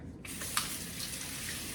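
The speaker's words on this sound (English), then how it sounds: "I'm gonna give them a quick rinse with hot water." Canning jar lids rinsed under hot running tap water, a steady close hiss of flowing water that starts abruptly with a brief clink and continues evenly.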